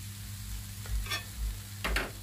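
Ingredients for borscht with pork ribs and cabbage being stirred in a pot, a few scraping stir strokes over a soft steady sizzle and low background hum, close and fairly quiet.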